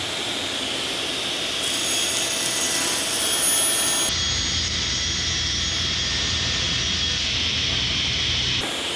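In a woodworking shop with a 52-inch table saw, a shop vacuum runs with a loud, steady roaring whine, its tone shifting partway through but staying constant and close.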